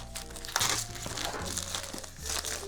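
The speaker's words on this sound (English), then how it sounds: "open the cellophane on the edges here using my jerry rig everything knife and take the cellophane off" Cellophane wrap being peeled off a Realme GT Neo2 5G phone box, a close, continuous crinkling and crackling with a few sharper crunches, no voices.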